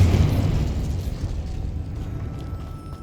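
A Confringo fire-blast spell in the video game Hogwarts Legacy bursts in a single loud boom at the start, then rumbles and fades away over about three seconds.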